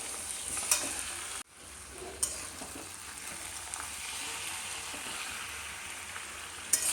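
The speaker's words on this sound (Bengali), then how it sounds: "এবার প্রথমে আমি পেঁয়াজের সাথে সবটা মাটন মিশিয়ে দেব।" Marinated mutton frying with softened onions in a pan, a continuous steady sizzle broken by a few sharp clicks and scrapes of stirring, moderately close with no talking.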